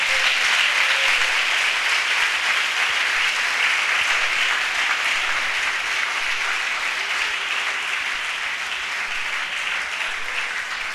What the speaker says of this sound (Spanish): ¿Por qué no da un aplauso al Señor?